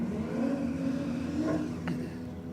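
A Ford Falcon and a VN Holden Commodore drag race down the strip, engines roaring steadily at full throttle with rising revs and a gear change, heard from some distance with crowd ambience beneath.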